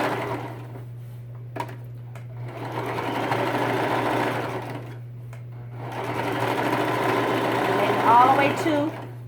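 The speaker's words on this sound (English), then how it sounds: "I'm going to pull and I'm going to sew." Sewing machine stitching a caftan dress with an elastic waist, running in two long steady bursts separated by a short pause, with a constant low hum underneath and brief talk between runs.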